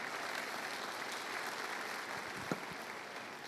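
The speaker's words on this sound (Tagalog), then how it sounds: "Ang pumalakpak mga tao rito." Scattered applause from a congregation during a Tagalog sermon, a low, steady wash of many hands clapping at a distance, with one sharper clap standing out near the end.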